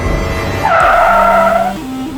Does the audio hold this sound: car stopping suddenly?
yes